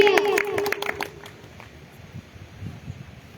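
Church congregation clapping hands together during worship, a burst of rapid clapping over a sung or spoken voice that fades to sparse claps and quiet murmuring.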